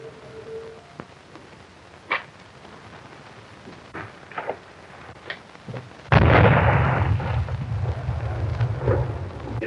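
A bomb goes off in a 1936 western, a sudden loud blast about two-thirds of the way through that leaves a long rumbling roar, after scattered faint knocks and thuds in an otherwise quiet scene.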